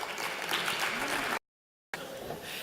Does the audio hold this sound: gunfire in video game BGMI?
no